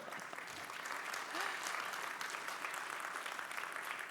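Audience applause fills a conference session hall, a steady wash of clapping from a large crowd, moderately distant and sustained at an even level throughout.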